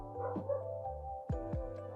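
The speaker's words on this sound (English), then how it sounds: "Sorry if you guys can hear the dog downstairs." A dog barks downstairs, muffled and faint through the floor, with a soft whine early and then two sharp barks close together, in a quiet indoor room.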